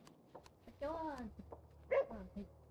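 A dog in the online game Book of Travels gives a couple of short, faint barks a second apart, and a person talks quietly through them.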